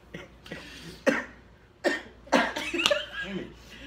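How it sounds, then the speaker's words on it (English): A person coughs several times in short, separate bursts spaced unevenly, close and fairly loud, with breathy sounds between them. "I'm going to have to go through this because I'm going to cough."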